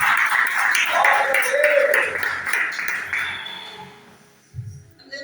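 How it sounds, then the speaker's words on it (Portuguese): Church congregation clapping during a service, a dense burst of hand claps mixed with voices that fades away near the end. "Palmas para Jesus bem forte"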